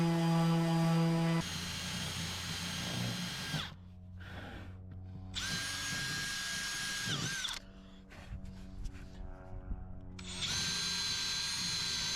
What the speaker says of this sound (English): Let's get sanding.